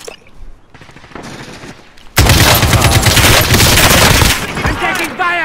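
Dense Call of Duty gunfire erupts in sustained rapid bursts with heavy booming impacts, loud and close, after a quieter stretch with voices talking.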